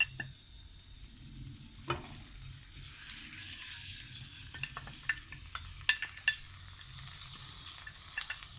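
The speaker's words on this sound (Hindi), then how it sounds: "इसमें अब हम जिंजर और लहसुन अदरक डालेंगे। गार्लिक और जिंजर का पेस्ट डालेंगे।" Ginger-garlic paste sizzles and fries in hot oil in a karahi for beef keema, with a steady crackle broken by sharp clinks and scrapes of stirring; no one speaks.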